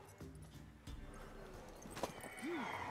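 Rhythmic clip-clop of a mare's hooves in the video game The Witcher 3: Wild Hunt over a low ambient bed, ending with a brief rising whinny-like tone near the end.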